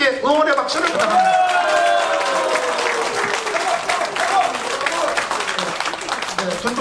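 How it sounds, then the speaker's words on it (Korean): An audience at the opening ceremony of a hanbok model contest and fashion show bursts into sustained applause with cheering, a dense crowd of claps that fades gradually while a host's voice carries over it. "이분들에게 여러분 함성과 함께 응원의 박수를 부탁합니다."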